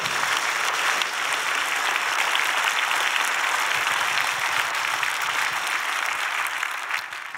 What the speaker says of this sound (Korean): 우리 교회 얘기하니까 박수를 그렇게 세게 치세요